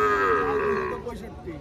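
A cow at a village cattle market moos once, loud and close, in a drawn-out low call that fades after about a second.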